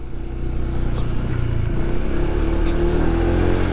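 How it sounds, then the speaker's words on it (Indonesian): A Honda PCX 160 scooter engine hums steadily and pulls away on a riding track, its low drone holding at a moderate, even level with no talking. "Motor udah hidup, kita jalan dulu."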